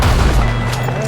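Gunfire rings out in Red Dead Redemption 2, a dense burst of deep booming shots with a rumbling tail, loud and close throughout the short stretch.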